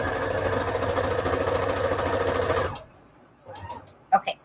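A sewing machine stitches fabric around a Peltex stiffener for a soft mini junk journal cover, running steadily and fairly loud for under three seconds before stopping, followed by quiet handling and a couple of brief sounds.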